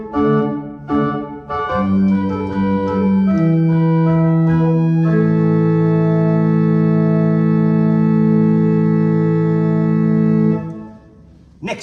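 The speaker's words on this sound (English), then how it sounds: "the bottom stop on the grate is an 8-foot open diapason" An 8-foot open diapason stop on the great division of a pipe organ plays a sustained sequence of full, steady chords with smooth transitions between them. The tone is loud and alone, with no talk, and it releases near the end.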